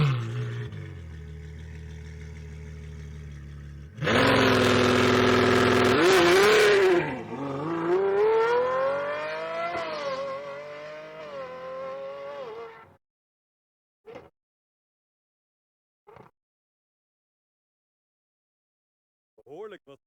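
A Ferrari 812 fitted with a Novitec straight pipe exhaust fires up with a loud bark, then rises and falls through several sharp revs that fade out, followed by a few short bursts near the end.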